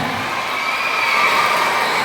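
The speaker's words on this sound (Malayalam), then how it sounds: "എനിക്ക് ഇവിടുന്ന് കയ്യടി വേണം" A crowd of school children in a high school cheering and shouting together, a loud, continuous wash of voices with no distinct claps standing out.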